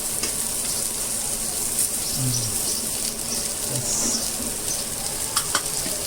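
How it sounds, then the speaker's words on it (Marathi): A salted, spiced rawas fish fries on a hot tawa with a loud, continuous sizzle close by. Faint crackles and stirring sounds run under the hiss, and no voices are heard. "गेलेली आहे रावस मच्छी तव्यावरती"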